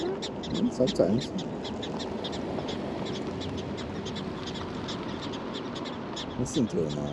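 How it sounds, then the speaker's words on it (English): A colony of prairie dogs in the South Dakota Badlands gives rapid, repeated high chirps at a distance, running steadily beneath nearby people talking. "See them over there? They're chirping."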